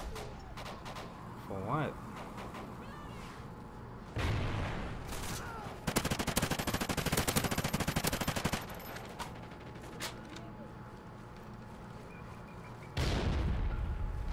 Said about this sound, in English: He's just shooting the damn window?